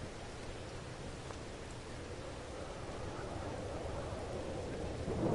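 Steady rain patters softly outside a cabin in the PS4 game Blackwater Bottom, a faint, even hiss that swells slightly toward the end.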